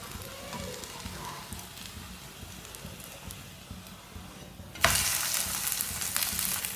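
A rice flour roti cooks on a hot griddle with a steady, soft sizzle. A louder burst of frying hiss begins partway through and stays up, close and with no talk.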